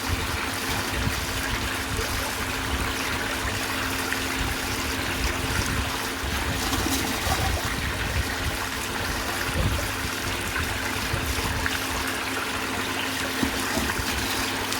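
Water runs and trickles steadily through a gold recovery setup processing IC chips, a continuous close splashing flow with a constant low pump-like hum beneath it.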